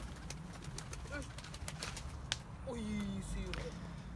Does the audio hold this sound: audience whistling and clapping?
no